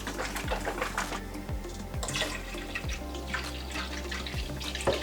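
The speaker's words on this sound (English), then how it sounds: "Step 2, pour the milk." Milk poured from a container for making goat cheese, a continuous liquid splash and trickle with close, steady pouring noise and a few low thumps, with no talking.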